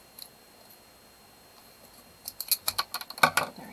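A plastic package being cut open with scissors, a burst of crisp, closely spaced snips and crinkles up close after a quiet pause.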